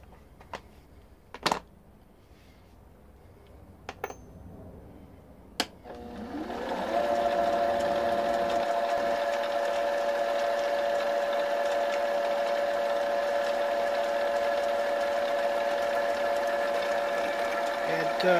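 A lathe drilling a hole with a drill bit after a center drill, starting with a few sharp clicks and knocks, then a loud steady whine with a humming tone that runs on close up.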